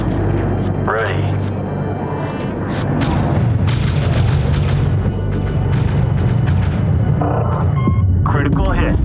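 Cannon fire destroying an enemy frigate in the Homeworld 3 space strategy game: loud, dense rumbling booms and explosions over a continuous low hum, with a synthetic voice speaking over the battle.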